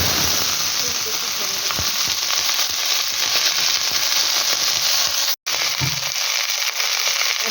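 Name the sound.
panch phoron spices frying in hot oil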